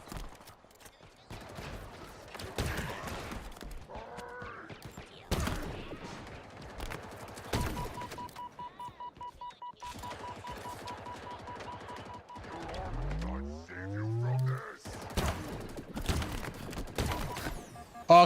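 Rapid gunfire from a video game shooter, with dense bursts and fast automatic volleys across the clip, broken by sharper single shots and a rising mechanical whine, loud and close, with talk mixed underneath at times.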